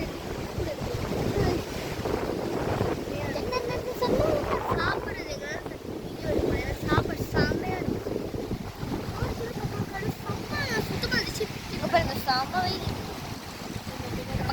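Ocean waves wash on the beach at Desaru, heard beneath people talking and gusting wind buffeting the microphone, a rough, continuous surge throughout.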